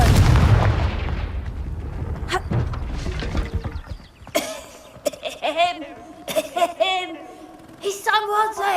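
Confringo fire spell explosion in the video game Hogwarts Legacy: a loud, deep blast that starts the clip and rumbles away over several seconds, then fades under in-game character voices.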